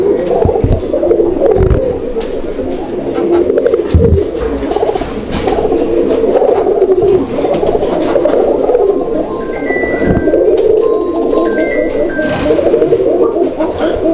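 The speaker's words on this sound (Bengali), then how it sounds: "মাশাআল্লাহ, অনেক চমৎকার ডাকটা দিচ্ছিল, আমরা ডাকটা দেখাই দিলাম আপনাদেরকে।" Raj golla pigeons, including a male, coo loudly and repeatedly at close range, low throaty calls recurring throughout with a few faint higher chirps.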